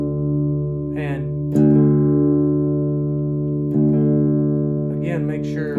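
Sustained guitar notes ring steadily while a voice talks over them in bursts, the tones held for tuning by ear against a reference pitch, with a fresh pluck partway through.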